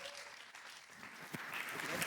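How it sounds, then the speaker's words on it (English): Audience at a sales and revenue leaders business event applauding a speaker as he walks to the stage, a soft, steady wash of clapping with faint voices mixed in. "Please welcome him with a round of applause."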